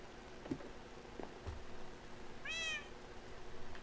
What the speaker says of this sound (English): Little cat.